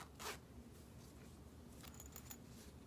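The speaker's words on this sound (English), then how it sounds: "So here's the zipper." A pretty heavy-duty zipper on a quilted fabric pouch with interfacing is pulled, giving one quick, sharp zip near the start, then a short run of small, close zipping strokes, with no talking.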